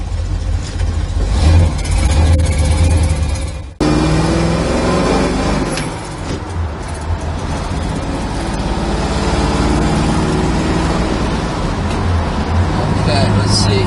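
A 1968 Chevrolet Nova being driven, its engine a loud, continuous rumble with shifting pitch as it moves, with people talking over it.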